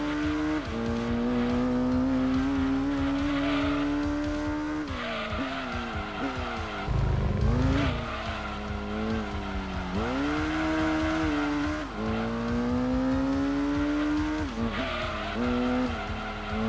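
A Dodge Viper GTS-R Team Oreca race car, 713 horsepower, front engine and rear drive, screams around Laguna Seca Raceway in the Gran Turismo 2 video game, its engine note rising and falling through gear changes with loud tire squeal and skidding throughout.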